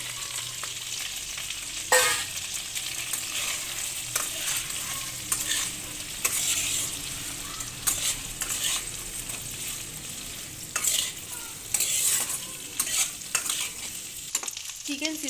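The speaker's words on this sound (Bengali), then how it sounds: "এবারে দিয়ে দেবো কারি পাতা, এবারে দিয়ে দেবো ভেজে রাখা চিকেন।" Curry leaves and pre-fried chicken stir-frying in a pan for chicken 65, a steady loud sizzle broken by repeated scraping stirs and clanks of the utensil throughout, with no talking.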